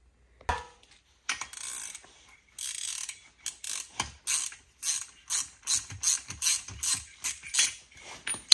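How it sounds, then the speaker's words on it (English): Ratcheting clicks and metallic turns come from a wrench loosening the spark plug on a 1977 Kawasaki KD175 engine, starting with a few hesitant pulls, then a quick regular series of close ratchet strokes. "So we'll pop the plug out, squirt a little PB Blaster in there and see if we can get it to free up."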